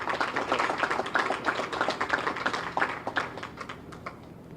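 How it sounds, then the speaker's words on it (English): Audience applause welcomes the HUD Secretary at a Hurricane Ida recovery briefing in New Orleans, dense steady clapping that thins and fades out toward the end. "Please join me in giving a round of applause, a New Orleans round of applause"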